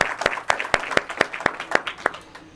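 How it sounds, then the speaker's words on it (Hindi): Audience clapping greets a guest at a Kushwaha community welcome gathering in Ashta, steady separate claps about every quarter second, fairly close and loud, with no talk over them. "उनका भी मैं पूरी कुशवा समाज की तरफ से जोरदार तालियों के द्वारा उनका भी स्वागत करना चाहता हूं"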